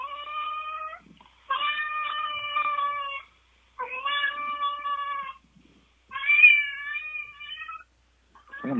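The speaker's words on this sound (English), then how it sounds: "I'm gonna let a cat in here." A cat meows in several long, drawn-out calls, four distinct yowls separated by short pauses, close and clear with no other sounds around them.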